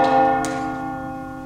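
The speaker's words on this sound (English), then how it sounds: "the bell invites me" A single deep church-style bell struck once during a stage performance of Macbeth, its rich toll ringing out clearly and decaying slowly with sustained overtones.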